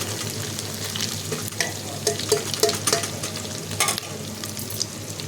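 Ginger frying in hot oil in a pan, a steady close sizzle broken by repeated scraping stirs of the spatula, with no voices over it.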